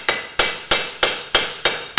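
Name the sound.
hammering metal vise jaw flat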